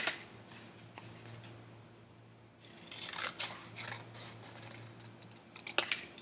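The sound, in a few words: scissors cutting paper shapes for a collage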